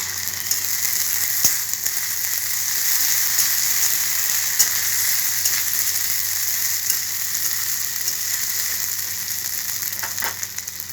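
Ginger-garlic paste sizzles steadily in a hot pan while being stirred, a constant bright frying hiss with occasional scrapes of the spoon, close and without speech.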